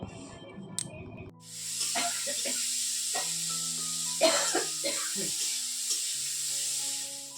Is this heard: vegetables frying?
yes